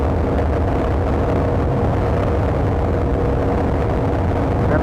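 A Bajaj Dominar 400 motorcycle engine holds high revs near 8,500 RPM, a loud steady droning roar with heavy wind rush and no pauses throughout.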